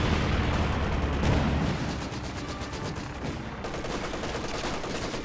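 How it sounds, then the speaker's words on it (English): Machine gun bursts and mortar fire in a WWII strategy game battle on British fronts, a dense ongoing volley of gunfire with heavier booms early on, steady and fairly loud throughout. "when you get like building to building MGs and then the mortars are going to have to be doing the clearing work"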